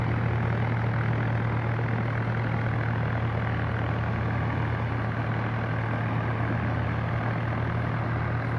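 A Swaraj 855 tractor engine runs in second gear at about 1600 rpm, a steady loud diesel drone with a constant low hum and no breaks.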